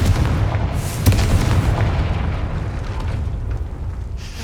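A Confringo blasting spell bursts in Hogwarts Legacy with a single sharp blast near the start, then a dense, heavy rumbling roar that holds loud and close throughout.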